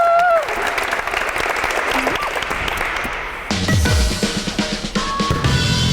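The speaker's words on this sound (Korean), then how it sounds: "성공을 기원하면서 박수 주시기 바랍니다" A studio audience at a televised Korean volleyball show applauds, a dense, steady clapping that carries loud through the whole stretch, with a voice briefly audible near the start.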